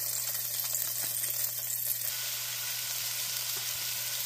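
Ground beef frying in a hot skillet, a steady soft sizzle and crackle running throughout at a moderate, even level, with a low hum beneath and no talk.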